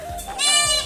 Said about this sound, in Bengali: ওই ছাগলগুলো ডাকছে